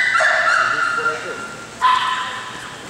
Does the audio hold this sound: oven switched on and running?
no